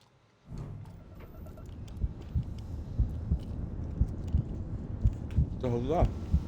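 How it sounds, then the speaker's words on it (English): A steady, low thumping heartbeat from the game Starfield pulses regularly about once a second after a sudden onset, with brief voiced sounds rising over it near the end. "Why can I hear my heartbeat?"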